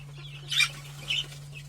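Chickens cluck softly as they eat feed, two short clucks a moment apart standing out over a quiet background hum.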